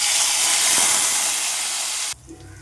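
Dried red chillies, coriander seeds and tamarind dropped into hot oil for mint chutney, a loud, dense hiss of sizzling that cuts off abruptly near the end, leaving faint kitchen sounds.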